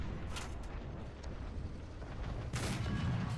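A tank cannon in War Thunder fires in a battle, with a sharp booming blast near the start and another heavy report near the end, all over continuous rumbling battlefield noise.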